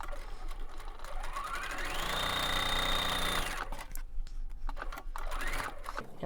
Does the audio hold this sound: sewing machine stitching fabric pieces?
yes